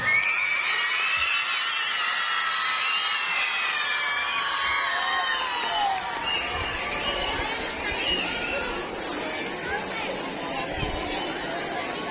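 Audience at a school Children's Day event cheering and applauding for a group of boys, a dense steady roar of chatter and shouts with clapping running throughout, loud and close.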